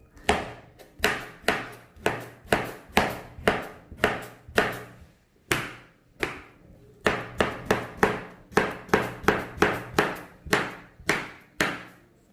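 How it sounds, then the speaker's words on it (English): A knife cuts through mango on a board in a steady run of sharp, close chops, roughly two per second with a brief pause midway, loud and alone without talk. "Okay, I've sliced some mango."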